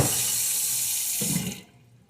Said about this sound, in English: let the water run until it covers your potatoes